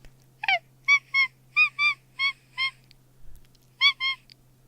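A voice imitates kitten meows: about eight short, high, squeaky mews, mostly in quick pairs, with brief gaps between them.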